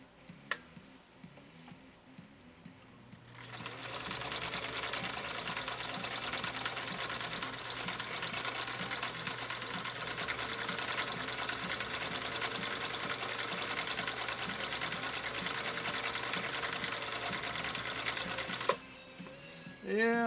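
A 1960 Viking Husqvarna CL-21A sewing machine runs a decorative stitch 2 on cam C, a steady fast whirring chatter of needle and motor that starts after a quiet pause, holds evenly, then stops abruptly near the end.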